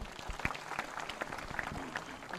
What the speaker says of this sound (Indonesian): Tepuk tangan buat Bang Dik.